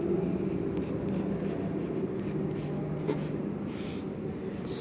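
Pen scratching across paper as someone writes by hand, a steady run of soft scraping strokes with brief pauses, close and fairly quiet.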